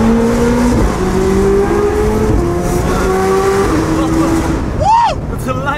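A McLaren sports car engine roars and shifts pitch as it accelerates, loud and close, with a sharp rising whine near the end.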